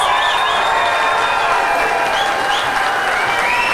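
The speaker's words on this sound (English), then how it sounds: "let's give one more round of applause" Steady, loud applause from a crowd at a CTV Hometown Tour community event in Lafleche, Saskatchewan, sustained throughout with occasional cheers rising over the clapping.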